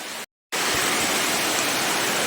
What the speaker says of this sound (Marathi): आता पावसामध्ये पाऊस पूर्ण जोरात चालू आहे